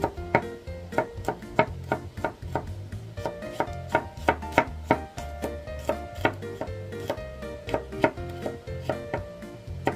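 A knife slicing through a generous pile of garlic cloves, a rapid steady run of sharp taps on a board for ten seconds, close and clear with no voices.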